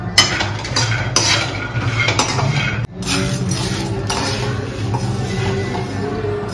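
Peanuts and lentils frying in a pan, with steady clinking and scraping of a utensil against the metal over a continuous background hiss, close and fairly loud.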